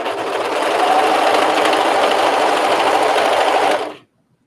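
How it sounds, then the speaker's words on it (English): Brother 1634D serger stitching a knit tee sleeve, a steady loud mechanical whir running nearly four seconds, then stopping abruptly into silence. "this is the Brother 1634D serger"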